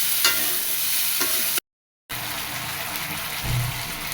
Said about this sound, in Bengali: হালকা পরিমাণে একটু জল দিয়ে মশলাটা ভালো মতো কষায় নেব